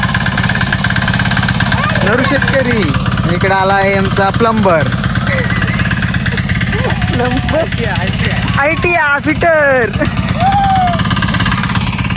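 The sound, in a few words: tractor engine idling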